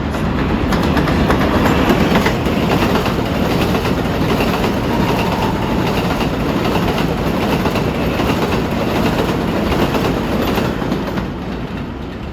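A New York City 7 line subway train rumbles steadily along the tracks toward Flushing Main Street, a dense, continuous roar with faint clatter, easing slightly near the end.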